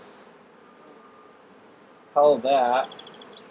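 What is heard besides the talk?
honey bees buzzing during a hive inspection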